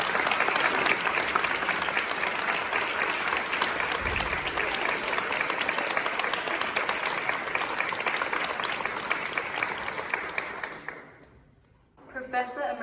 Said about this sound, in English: So, great applause to all the young people who did organize and perform